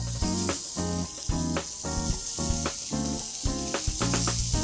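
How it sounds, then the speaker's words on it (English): Loud, steady sizzling of burger patties frying on a hot griddle, with crackles and pops throughout and no talking. "You want that sizzle."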